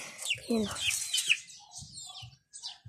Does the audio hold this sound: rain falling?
no